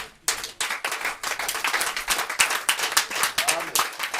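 A church congregation bursts into applause after a pause, a dense burst of many hands clapping, loud and continuous with uneven rhythmic surges, with voices mixed in.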